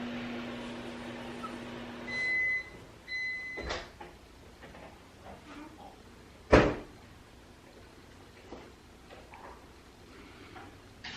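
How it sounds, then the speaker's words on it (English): An office door opening in a cluttered room: a soft handle click and creak, then a couple of sharp knocks and one loud thud partway through, over a quiet indoor background with no talking. "I'm just gonna open this door and just show you."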